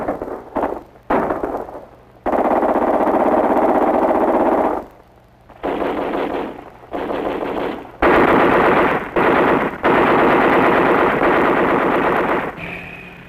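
Loud, sustained bursts of machine gun fire from army training, 1960s Chinese Nationalist troops with American equipment, come in long rattling strings separated by brief pauses.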